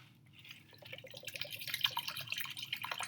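Aluminium can flipped upside down and plunged into an ice water bath in a chemistry gas lab, giving a few seconds of close, steady dripping and bubbling water sounds that grow slightly louder, with no talking.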